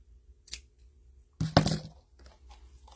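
Scissors cut through rope while a burlap flower wreath is being made: one faint snip early on, then a louder, crunching cut through the thick strands, with soft handling noise afterward.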